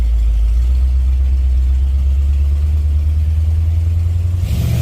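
A 1986 Ford F150 with a 351W V8 and ZF5 manual transmission runs close and loud in first gear on its first drive with a rebuilt 9-inch rear end, a steady low engine drone with a brief change near the end.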